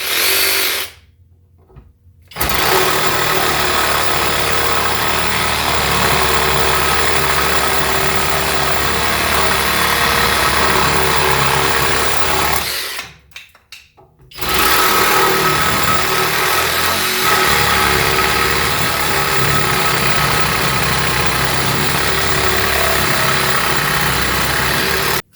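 A SKIL 12V cordless reciprocating saw cuts steadily through wood with a new DeWalt wood-with-nails blade, its loud buzzing motor running continuously with two brief pauses where the cut stops and restarts.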